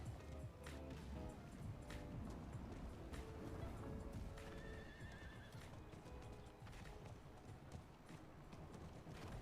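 A horse mount in the Diablo 4 video game gallops with rapid, rhythmic clip-clopping hooves and lets out neighs and whinnies, quiet but clear, continuous throughout with game effects underneath.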